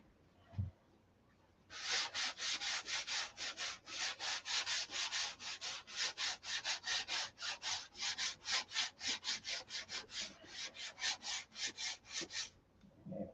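Paint being hand-sanded with very fine 5,000 grit sandpaper on a Viper: a steady run of brisk, close back-and-forth rubbing strokes, evenly paced and loud, with no one speaking.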